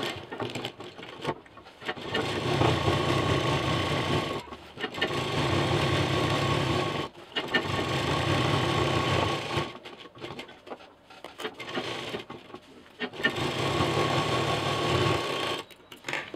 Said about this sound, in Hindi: एक चाप की दूरी से मशीन चलाएंगे